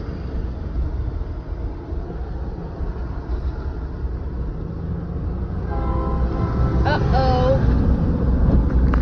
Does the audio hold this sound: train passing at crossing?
yes